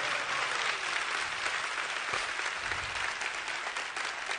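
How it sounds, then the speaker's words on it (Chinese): A hall audience of more than 3,000 people at a Riway company event bursts into sustained, dense applause that stays loud and even throughout, with no voices over it. "我真的需要全场3000多人最热烈的掌声给这些人"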